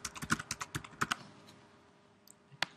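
Someone types a comment on a computer keyboard in quick, soft, close clicks for about a second, then sparse isolated taps in a quiet room.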